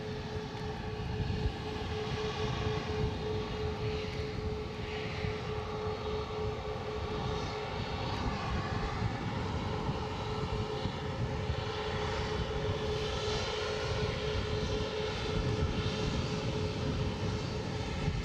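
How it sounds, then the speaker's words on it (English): Cessna light aircraft engine at an Edinburgh airport, a steady droning propeller-engine roar with a constant hum, loud and continuous throughout with no talk over it. "This little Cessna is exercising me."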